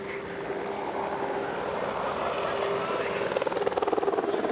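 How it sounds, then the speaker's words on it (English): A helicopter flies around above the Xtreme Verbier freeride ski final in the Swiss Alps. It gives a steady droning whine, and its rotor thudding grows stronger and more rhythmic near the end, with muffled voices underneath. "Helicopters still flying around."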